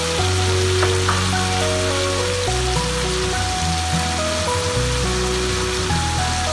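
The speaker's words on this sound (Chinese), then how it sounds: "再爆炒几下" Pork slices and bell peppers stir-fried in a wok with dark soy sauce and salt, giving a steady, loud sizzle throughout with sustained musical tones layered over it.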